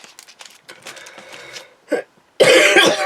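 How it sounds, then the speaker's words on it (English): A person at a crafting table clears the throat and coughs in short rough bursts, a few scattered soft throat sounds followed by one loud, sustained harsh cough close to the microphone near the end. "You'll have to really excuse my cough."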